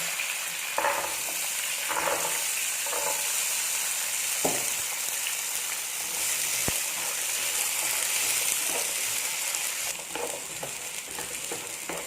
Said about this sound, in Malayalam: അതിലോട്ട് ഞാൻ ഈ ചുമന്നുള്ളിയും കൂടി ഇതിലോട്ട് ഇടുകയാണ്.